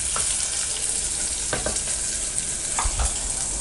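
Onions and garlic are sautéed in a pan for sambar, a loud, close, continuous sizzle with occasional scraping and tapping from a stirring spoon.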